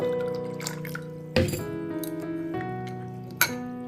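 Broken wheat (dalia) is washed by hand in a bowl of water for vegetarian khichdi, with sloshing water, soft drips and a few sharp clinks against the vessel, up close and with no talk.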